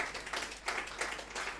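An audience at a large Bible retreat session claps in a steady, sustained round of applause that swells and dips slightly throughout, with no voices.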